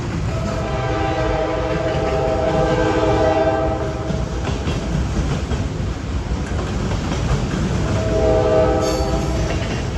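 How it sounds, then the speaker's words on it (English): A train rumbles past close by on a hot, humid day in Pennsylvania, with clattering wheels, its horn sounding at the start and again near the end. "I'm sure you can't hear what I'm saying because of the train going"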